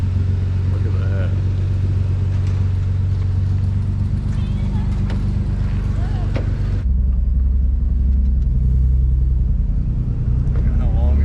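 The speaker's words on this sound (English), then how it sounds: "Look at how long it's been since I pulled my car into a garage." A car with a red interior rolls into a garage at a new shop, its low engine rumble steady and close throughout, the tone shifting partway as it settles inside.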